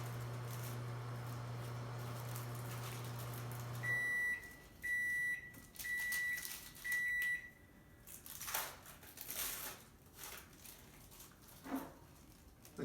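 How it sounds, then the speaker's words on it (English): A kitchen microwave oven sounds a series of four short, bright electronic beeps close by after its hum cuts off, followed by faint clatter and handling noises. "Hear the beep."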